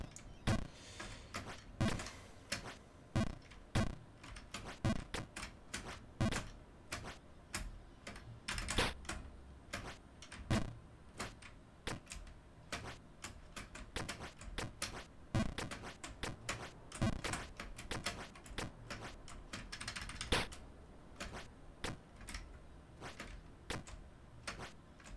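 Rapid, uneven clatter of keys on a computer keyboard, typed continuously at close range with sharp individual clicks and occasional heavier strokes, and no voices.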